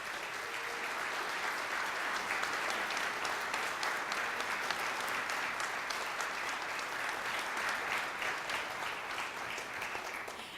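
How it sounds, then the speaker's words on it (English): Steady applause from the crowd at Louisville Mayor Greg Fischer's 2019 inauguration, many hands clapping continuously for about ten seconds, even and moderately distant, fading slightly at the end with no talking. "Please give them all a round of applause"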